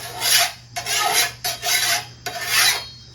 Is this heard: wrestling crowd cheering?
no